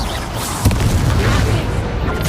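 Incendio fire spell cast in Hogwarts Legacy, a loud, continuous booming roar with crackling bursts mixed into dense game noise and combat sounds.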